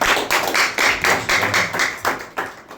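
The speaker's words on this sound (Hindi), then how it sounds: "एक अच्छा ताली बजाएं प्रभु के लिए" A congregation claps for the Lord in a church service, loud and close, with a steady rhythm of sharp, regular claps repeating about every quarter second.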